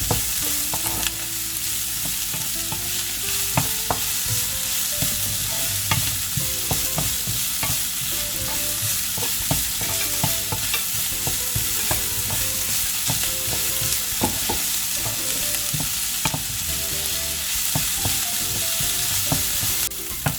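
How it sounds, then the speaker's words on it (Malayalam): Chopped onions, salted for quicker softening, sizzle steadily in a hot pan as they brown for a ground-coconut egg curry, with frequent scraping stirs of a spatula repeating throughout, close and continuous with no talking. "നമ്മുടെ സവാള ഏകദേശം വഴന്ന് വരുന്നുണ്ട്, ബ്രൗൺ കളറായി വരുന്നുണ്ട്"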